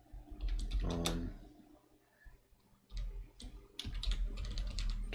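Quick bursts of clicky computer keyboard typing as text is written, a short flurry followed by a pause and then faster runs of keystrokes, close and alone.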